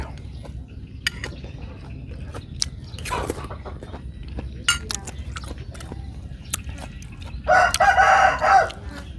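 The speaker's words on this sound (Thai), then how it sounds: "ขันเลยไก่" A rooster crows once, loud and fairly close, near the end, after scattered clicks and chewing-like sounds from people eating nearby.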